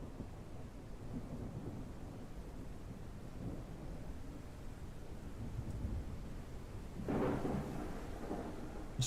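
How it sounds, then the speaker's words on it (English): Steady heavy rain with rolling thunder in a video game as a typhoon approaches, a continuous close wash of downpour with a louder thunder swell near the end. "is it raining inside the building?"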